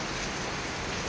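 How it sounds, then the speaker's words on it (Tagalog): Steady rain falling on a rural province home, a dense, even hiss of drops on surfaces that runs unbroken from start to finish, with no voices. "maghapong umuulan."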